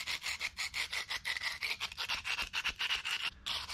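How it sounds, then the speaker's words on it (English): Rapid rhythmic scraping as a tool rubs Portland cement off rapid set mortar on old concrete, about twenty quick gritty strokes in steady succession, close and loud with no talk. "you can see how easily the Portland cement scrapes off of the rapid set mortar mix"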